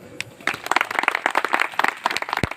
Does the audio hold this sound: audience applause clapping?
yes